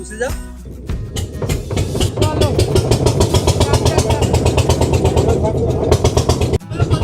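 A boat engine drones and chugs in a fast, steady pulse during a boat ride at sea off a beach, loud and close throughout, with a voice talking over it.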